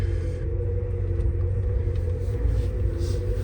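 A 1987 Porsche 928 S4 rolls along slowly, its engine a low, steady rumble with a constant drone and no sharp revving.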